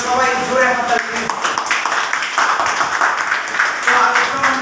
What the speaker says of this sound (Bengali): সবাই জোরে হাততালি দিন।